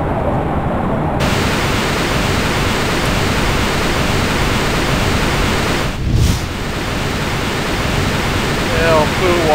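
Steady rushing wash of sewage water flowing in the video game Parasite Eve 2, a loud broadband roar throughout with a short dip midway.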